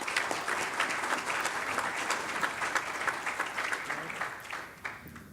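An audience at an energy-efficiency-in-transport forum gives a round of welcome applause for an incoming speaker. The crisp, continuous clapping holds steady, then thins out toward the close.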